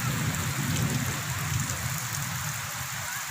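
Rain pours steadily across a village, a dense unbroken patter and hiss that stays close and fairly loud, with no talking.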